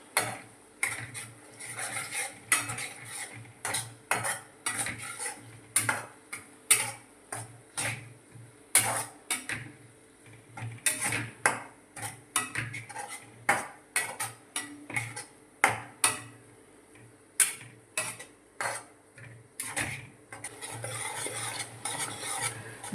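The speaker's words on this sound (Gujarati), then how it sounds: "હલાવી નાખશું બધું." Onions being stirred in a pan for a cashew paneer curry, a spoon scraping and clacking against the metal in quick irregular strokes over a soft sizzle, close and continuous with no talking.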